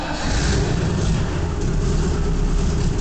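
A 1985 Land Rover Ninety with a Rover 3.5 litre V8, the former Buick 215, running slightly rough: a loud, steady low engine rumble held close throughout, with no clear starter crank.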